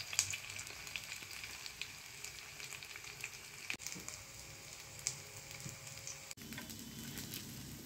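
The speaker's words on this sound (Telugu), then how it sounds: "ఇదిగోండి, 2 వైపులా ఫిష్ ముక్క మంచిగా ఫ్రై అయిపోయింది" Fish pieces frying in oil in a pan, turned over with a spatula: a steady, moderate sizzle and crackle runs throughout, with occasional small pops and scrapes and no talk.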